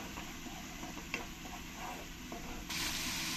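Ginger, garlic and green chilli paste stir-fried in a pan for a fish curry, giving a faint, continuous sizzle with soft scraping stirs and small clicks, rising slightly louder near the end.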